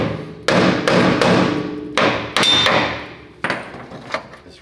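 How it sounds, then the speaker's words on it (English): A hammer strikes a stuck part on a 1941 Chevy during a lowering job, giving a series of loud, close metallic bangs at irregular intervals, each ringing briefly before fading. "I'm gonna grab that hammer, see if I can get this worked out of here"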